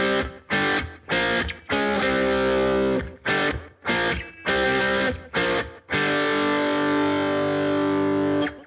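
A distorted electric guitar chugs out an intro riff in short, punchy bursts separated by brief gaps, ending on a long sustained chord that rings out.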